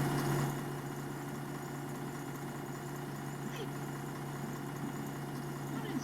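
A Volvo Olympian bus with Northern Counties bodywork idles in the OMSI 2 driving simulator, a steady, even, low engine drone with a constant hum that holds unchanged throughout.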